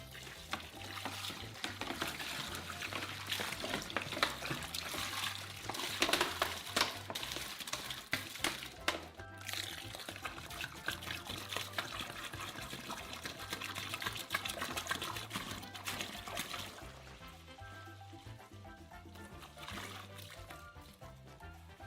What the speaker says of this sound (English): first pour half of all the water.